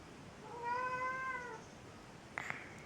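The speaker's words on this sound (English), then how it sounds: "And there's a cat over there." A house cat meows in a drawn-out, rising and falling call lasting about a second, fairly close and clear in a quiet room, followed later by a couple of faint clicks.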